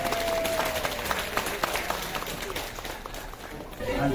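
Applause breaks out for a speaker at a baptism and first-haircut party in Lima, Peru: dense, steady clapping from a crowd with voices mixed in, holding for several seconds.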